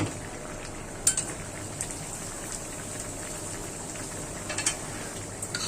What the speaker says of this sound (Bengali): নাড়া দিয়ে দিই, গ্রানটা সব জায়গায় মিশে যাবে